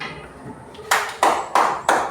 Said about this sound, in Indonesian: Nana tepuk tangan.